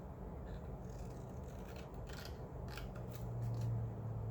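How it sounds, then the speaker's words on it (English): Scissors cutting a cardstock paper star for a craft star box, with several short snipping strokes close by in a quiet room. "So after that, what I'm going to do with that, I'm going to cut."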